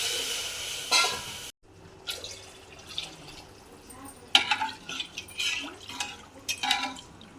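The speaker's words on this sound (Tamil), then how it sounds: "இதுலேயே 2 உலக்கு தண்ணி நம்ம இதில் ஊற்ற போகிறோம்" Water poured from a measuring cup into a pot of sautéed rice for pulao, a soft splashing and trickling that comes in short bursts with faint clinks of the vessel, recorded close in a quiet kitchen.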